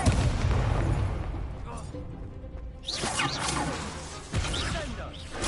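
Incendio fire spells cast in the video game Hogwarts Legacy, several whooshing, crackling bursts of magic in combat, loud and close, separated by brief quieter stretches.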